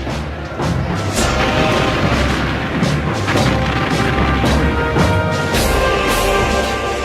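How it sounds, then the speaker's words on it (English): Cannon fire in a naval battle between galleys, a dense, loud barrage of repeated booms and crashes rolling over one another without a break. "The battle began amidst a blaze of cannon fire."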